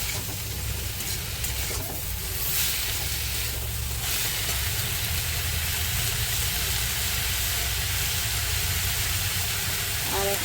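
Red amaranth greens fry with turmeric in a pan while being stirred, giving a loud, continuous close-up sizzle and hiss with a faint rough scrape of the utensil underneath.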